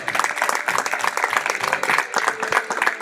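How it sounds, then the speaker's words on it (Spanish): A church congregation breaks into loud, close applause during a Spanish-language worship service, with many hands clapping in sharp, uneven bursts that continue throughout. "Dale un fuerte aplauso al Señor."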